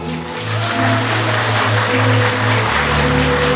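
Wedding guests in a convention-centre hall clap for the couple's parents, a continuous close wash of many hands under a sustained low musical tone, with no talk.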